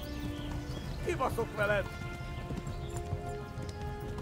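Horse hooves clop along in the medieval game Kingdom Come: Deliverance, a soft rhythmic patter beneath a brief spoken line and faint background ambience.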